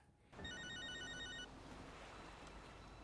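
A telephone rings in a single electronic trill burst, loud and close, over a steady wash of background noise that continues after the ring stops; no one speaks.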